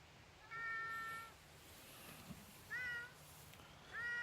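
A cat meowing at a campsite in the Yumyeongsan recreation forest, Gapyeong, with three drawn-out, fairly faint meows spaced a couple of seconds apart over quiet outdoor background.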